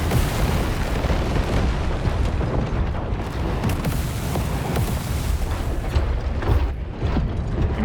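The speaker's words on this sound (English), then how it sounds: "The missiles incoming all the time." Incoming missiles exploding in the War Robots Frontiers video game, a dense, continuous barrage of booms and mechanical clatter that rumbles loudly throughout with no speech.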